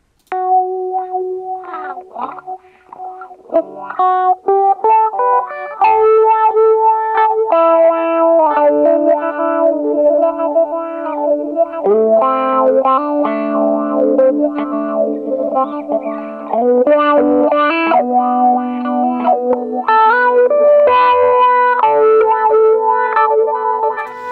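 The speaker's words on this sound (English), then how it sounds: "got a sound of wah pedal that's being changed according to this pattern" A synthesized guitar in Reason 7.1 plays a continuous melodic line with a patterned sweeping wah pedal effect shaping its tone, loud and unaccompanied by voices.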